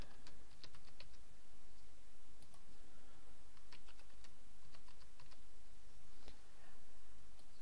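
Steady run of keystrokes on a computer keyboard while a password is typed in during a manual WordPress setup, a continuous close patter of light plastic clicks with no voices.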